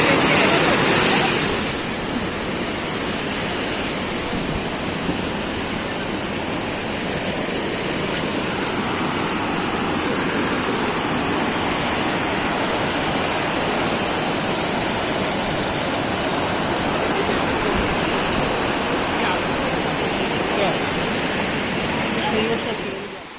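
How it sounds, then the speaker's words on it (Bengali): Water rushes steadily over the Lingmala mini waterfall at Mahabaleshwar in Maharashtra's Western Ghats, a loud, unbroken roar heard close up for the whole span, with a voice speaking over it. "আমি জলের শব্দটাও নিচ্ছি।"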